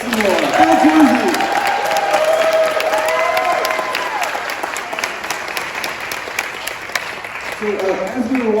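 Audience applause at a Blobfest 2022 film screening, sustained clapping from a crowd that fades slightly after a loud start, with scattered cheering and voices mixed in.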